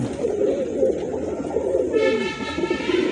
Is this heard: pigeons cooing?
yes